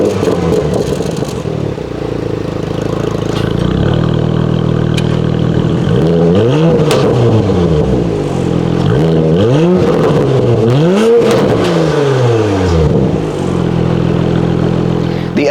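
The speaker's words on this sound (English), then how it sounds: "Probably one of the best exhaust notes that I've heard out of a crossover recently" A Porsche Macan GTS crossover revs its engine repeatedly, the exhaust note rising and falling in several loud sweeping blips over a steady idle, close by with no talking.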